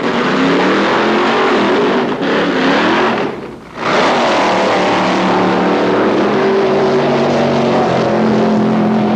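A loud, roaring drag racing car engine screams past at high revs on a quarter-mile pass at Palmdale Raceway, with a brief dip as it shifts, then keeps blaring steadily.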